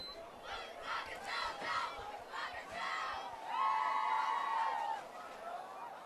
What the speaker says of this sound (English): There's an overly animated Old Rochester fan in the crowd.